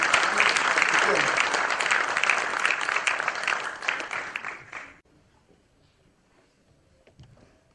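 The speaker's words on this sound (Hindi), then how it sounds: "तो ये तालियां उनकी जगह जरूर पहुंची।" Dense applause from an audience at a tribute event for Om Puri carries on loudly for about five seconds, then drops off abruptly into near-silence with a few faint, scattered sounds afterward.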